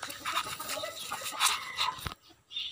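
Close, fairly loud bird vocalizing in bursts of clucking and squawks, a chicken fussing nearby, with a short pause near the end.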